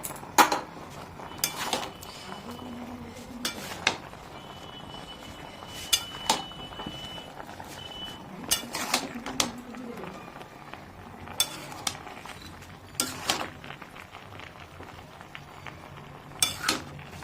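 Mixed vegetables being stirred in a cooking pan, with repeated scraping and clinking of a utensil against the metal pan over a soft sizzle, loud close strokes recurring at an irregular rhythm.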